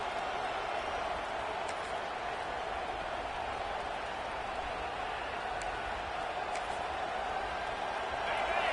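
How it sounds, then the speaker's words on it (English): A stadium crowd at an American football game roars in a steady, broad, distant wash of cheering and noise that swells slightly toward the end, with no clear voices standing out. "This crowd trying to make life miserable for this offense."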